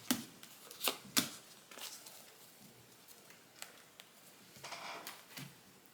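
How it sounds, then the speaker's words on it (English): A deck of cards is shuffled by hand, producing soft, quiet riffles and flutters in a few short bursts, then lighter rustling, with no talking. "Last shuffle."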